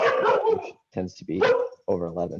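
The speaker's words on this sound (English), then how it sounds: "Oh, that's my dog." A dog barks a few times nearby, short sharp barks mixed in with ongoing conversation.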